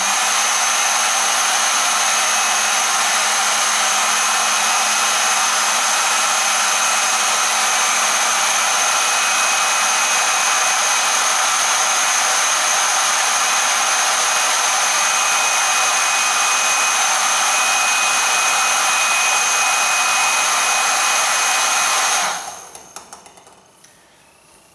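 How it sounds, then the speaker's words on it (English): A hair dryer, used in a physics lecture demonstration holding a ping pong ball in its airflow, blows loudly with a steady whirring hiss for about twenty seconds, then switches off and winds down to quiet. "We can do an even more dramatic demonstration of this by holding the hairdryer at an angle."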